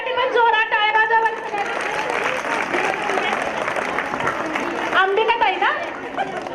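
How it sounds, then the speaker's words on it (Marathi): Audience at a Home Minister village game show in Shelgi clapping loudly for three women players, dense sustained applause mixed with chatter, while a voice speaks over it at the start and end. "तिघांसाठी पण जोरात टाळ्या वाजवा"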